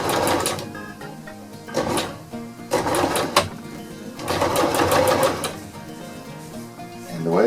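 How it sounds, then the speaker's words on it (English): Sewing machine lock-stitching the ridge line of a DIY hex tarp, running in several close, loud bursts of rapid mechanical chatter separated by short pauses. "with each case, you want to make sure that you do a lock stitch"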